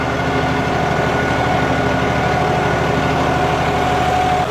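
A four-wheel-drive tractor engine runs under heavy load while pulling, a steady, loud, low droning rumble that holds without a break throughout.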